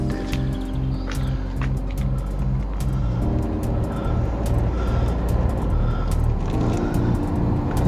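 Inside a car driving up a town road in Liskeard, Cornwall, a steady engine drone and road rumble holds constant and fairly loud, with faint ticks and clicks scattered over it and no talk.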